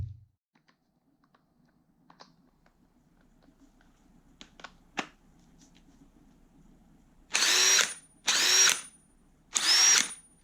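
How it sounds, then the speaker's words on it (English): An old impact wrench powered by a 3D printed battery fires three loud, close hammering bursts of about a second each, following faint scattered clicks and handling noises. "Let's see what impact wrench looks like."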